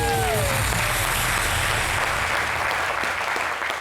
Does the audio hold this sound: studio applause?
yes